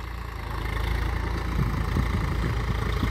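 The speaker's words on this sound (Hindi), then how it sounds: "बहुत बहुत शानदार ट्रैक्टर चलते हुए खेत में" A Swaraj 742XT tractor engine runs in a farm field, a steady low diesel rumble that holds close and fairly loud, with a slight rise in intensity partway through and no voices.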